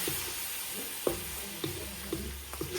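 Garlic sautéing in a pan until slightly burnt, a steady close sizzle broken by a few soft stirring scrapes.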